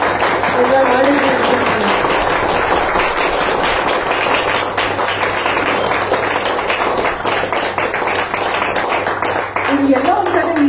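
An audience at a live quiz event with a host claps steadily in dense, continuous applause for the whole stretch. Voices can be heard at the start and end.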